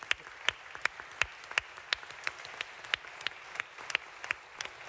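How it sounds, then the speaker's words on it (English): Applause from an audience at a London Climate Week address: sparse, fairly faint individual claps spaced irregularly, more a scattered handful than a dense ovation. "I think a very well-deserved round of applause"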